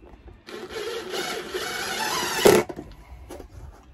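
A cordless screwdriver drives a screw through carpet into a locker in a VW Transporter van, a whirring run of about two seconds ending in a sharp clack, fairly close.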